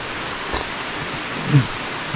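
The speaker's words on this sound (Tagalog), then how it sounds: "saglit lang naman to, mga ganitong ulan." Steady rain hiss fills the background, soft and constant, with a faint brief thump partway through.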